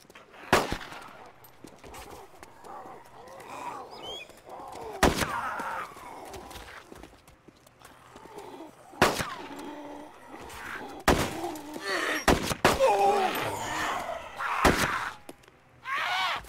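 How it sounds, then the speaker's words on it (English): Gunfire from shooting zombies in a video game, sharp isolated shots and short bursts spread across the clip over a busy background of game noise. "Apparently you're shooting zombies."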